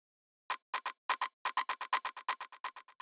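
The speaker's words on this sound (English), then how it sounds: "two rim shots, which sound like this." Techno rim shots with reverb tick in a quick, syncopated pattern of sharp, clicky hits. They start after a brief silence and continue steadily in close succession with a short tail on each, and no talking.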